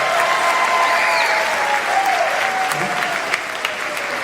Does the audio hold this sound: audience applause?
yes